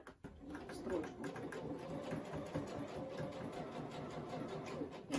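A domestic sewing machine runs steadily, stitching fabric for a handmade giraffe toy with a fast, even mechanical whir and faint pulsing. Tacking stitches hold the seam ends. Someone talks quietly over the machine.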